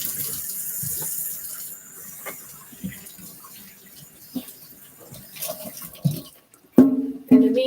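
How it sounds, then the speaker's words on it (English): Kitchen tap water running while hands are washed, a soft continuous splashing stream with clinks and bumps at a sink, growing louder and more uneven toward the end. "Wash your hands."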